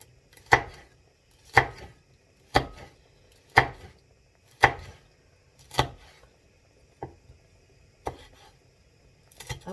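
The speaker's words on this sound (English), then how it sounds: "Chili you can chop as fine or as big as you want." A knife chops chilli on a wooden board in about nine distinct, evenly spaced knocks, each a sharp, close thud roughly a second apart, with near silence between them.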